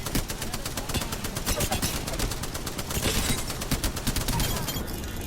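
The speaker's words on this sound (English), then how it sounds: "Shooting at me." Dense, sustained automatic gunfire in the battle royale game Apex Legends, rapid overlapping shots crackling continuously at close range for the whole stretch with no pauses.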